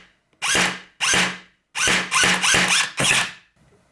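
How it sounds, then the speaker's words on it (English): A screwdriver works on an airsoft AEP gun, giving five or six separate bursts of close, loud, ratcheting whir, each about half a second long, with short gaps between them. "so I have to do it with a screwdriver"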